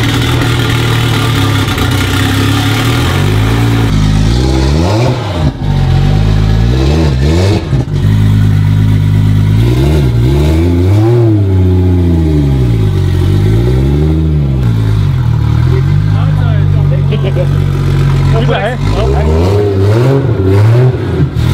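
Toyota Supra fitted with a single turbo exhaust system, engine revving loudly and repeatedly, with rising and falling sweeps between steadier idle stretches, close and dominant throughout.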